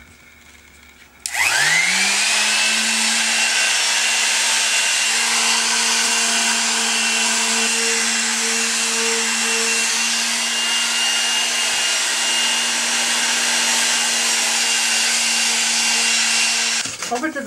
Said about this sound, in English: This is an orbital sander.